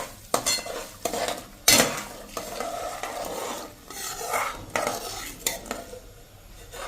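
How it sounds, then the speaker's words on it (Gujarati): Semolina sheera being stirred in a pan after milk is poured in: a spoon scrapes and clinks against the metal in irregular strokes, with a soft sizzle beneath, close and alone without talk. "અને એને આપણે આ રીતે કન્ટિન્યુ ચલાવતા જ રહેશું ફૂલ ફ્લેમ ઉપર"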